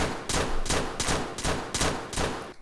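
Rapid automatic gunfire in the video game Stick Em Up, loud bursts repeating about every half second in a steady rhythm with no voices over it.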